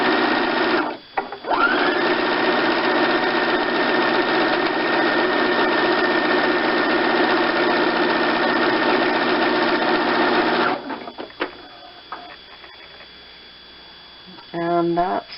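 A sewing machine runs a wide, long zigzag stitch across a foam dog collar, a loud steady whirring drone for about ten seconds, then stops amid quieter handling noises before a short restart.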